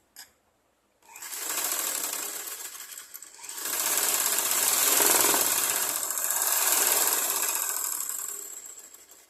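A sewing machine stitches two layers of blouse fabric in loud, rapid mechanical bursts after a brief click, running in two long stretches with a short pause between them.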